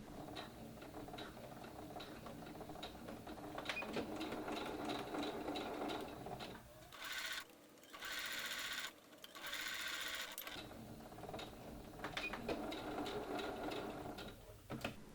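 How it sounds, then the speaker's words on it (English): Sewing machine stitching the darts closed on the lining of shoulder pads, a steady, fast mechanical whirring hum with a brief pause midway and short bursts before resuming continuous stitching, heard close and alone. "Sew the darts closed on the lining."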